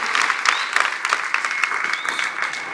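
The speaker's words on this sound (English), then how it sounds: "Can you clap for the chief guest?" Audience at a Kenyan university alumni gathering claps for the chief guest, lively uneven applause with some sharper individual claps and a couple of brief whistles over the steady patter.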